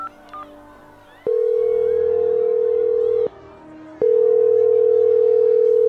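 An unanswered telephone call in a robot-crisis video game plays a loud sustained ringback tone in two long stretches separated by a brief gap, preceded by short faint beeps.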